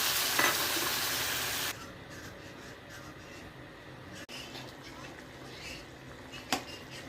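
Water poured into a hot pan of spiced, fried cauliflower and potato curry makes a loud rushing hiss that cuts off abruptly and settles into a quiet simmer, with a faint clink of a utensil.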